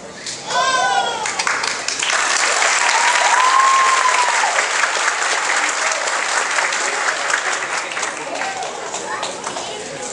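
Applause at a Mini Empresa graduation ceremony honouring volunteer advisors, a loud continuous wash of many hands clapping with scattered shouts and whistles, holding steady throughout.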